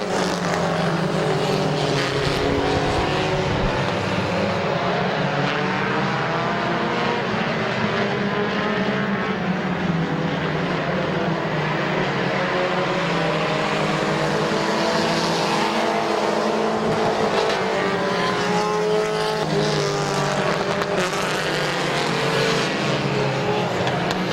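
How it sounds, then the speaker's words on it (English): Compact race cars roaring around the dirt oval at Midvale Speedway, a loud continuous engine drone with rising and falling revs as cars pass close by, over a noisy crowd-filled backdrop. "Lots of smoke from that machine as Ryan Schreffler to the outside."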